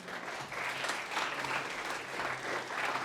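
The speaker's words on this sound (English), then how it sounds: "Big applause for them." Steady crowd applause at a startup pitch event greets two special-award presenters as they take the stage, sustained and fairly even for about three seconds with no voices over it.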